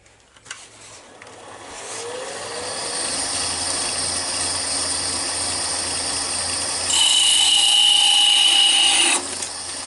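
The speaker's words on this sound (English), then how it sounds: "Now we need to part off the rim of the hat." A small thin homemade parting tool cuts into spinning wood on a lathe to part off the rim of a turned snowman hat, a rising whine and steady grinding hiss that grows louder before stopping abruptly.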